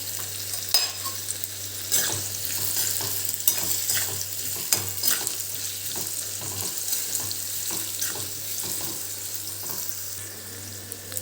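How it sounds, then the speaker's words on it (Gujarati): Raw mango pieces roasting with salt in a pan over a low gas flame give a steady soft sizzle, with scattered light scrapes and stirring clicks throughout and no voices. "ધીમા ગેસ ઉપર થોડા શેકાવા દઈશું કેરીના ટુકડા"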